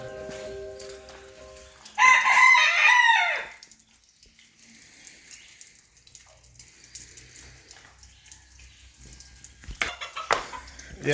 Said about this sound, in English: Yeah, Rooster, I hear you.